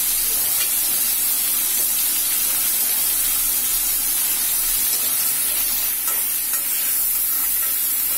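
Taro greens stirred through a hilsa fish head frying in spices, a steady dense sizzle and hiss with scraping stirs throughout, loud and close, no voices.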